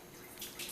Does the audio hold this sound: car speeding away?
no